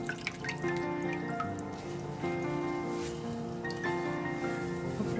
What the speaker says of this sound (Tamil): நீங்கள் நல்லா ப்ரெஸ் பண்ணி விடுங்க. அது வந்து நல்லா தண்ணி ஃபுல்லாக வெளியே வந்துடும்.